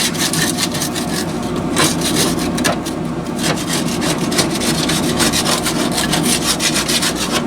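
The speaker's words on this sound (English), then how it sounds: "Scrape away, folks." A scraper, metal or plastic, worked over a Pit Boss Lexington pellet grill to strip off built-up residue, giving steady, continuous rasping and rubbing strokes close up with no talk.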